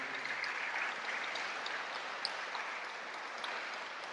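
A warm round of applause from an audience for a minister: continuous, dense clapping of many hands, soft and somewhat distant, holding evenly throughout without any talking.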